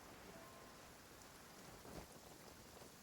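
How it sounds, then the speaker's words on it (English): Rain falls steadily in the Genshin Impact video game, with a soft hiss and a faint low rumble of thunder, quiet and distant, with no voices. "Yeah, it's raining, I think."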